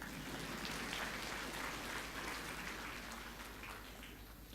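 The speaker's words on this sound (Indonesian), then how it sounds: "Tepuk tangan buat tikus yang kedua." Audience applause at an inspirational talk, heard faint and distant as a steady rain-like patter of many hands that softens slightly toward the end.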